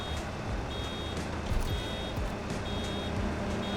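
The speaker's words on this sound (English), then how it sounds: "That beeping's telling me it's about to be spit out" Repeated electronic beeping from a baler in Farming Simulator 25, warning just before the bale is ejected, sounding steadily over a continuous engine and machinery drone.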